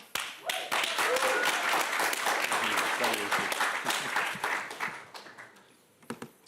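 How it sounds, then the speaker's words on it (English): Reporters at a post-fight press conference after a heavyweight title rematch applaud the heavyweight champion in a dense burst of close, rapid claps that fades out, followed by a few scattered claps and voices. "we can applaud to the champ"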